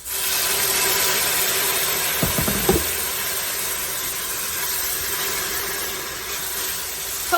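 A loud, steady hiss of steam as boiling water is added to a hot pan of vegetable soup, continuous and close, with a couple of faint clinks partway through.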